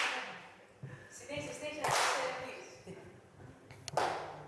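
A group of dancers stands in formation clapping in rhythm, the claps landing as sharp bursts at irregular intervals over a shuffling background with soft voices.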